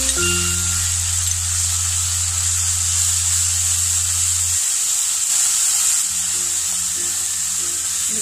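Ground masala base paste sizzles and fries steadily in a pan for a kadai capsicum mushroom curry, a loud continuous hiss with a low hum at first and faint stirring scrapes near the end.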